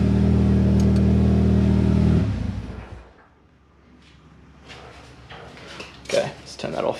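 A Mitsubishi Evo X engine, freshly fitted with new spark plugs, runs loud and close for about two seconds, then shuts off, leaving a quiet room where a person talks.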